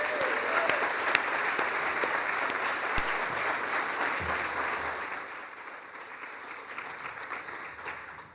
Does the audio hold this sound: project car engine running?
no